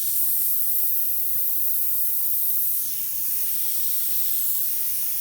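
An airbrush spraying white paint, giving a steady close hiss of air that runs throughout and dips slightly partway through, with no voices over it.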